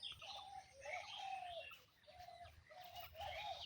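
Birds call in a bamboo grove in the early morning, soft repeated cooing and chirping phrases in a quiet rural setting, fairly faint with a low background hum and no talk.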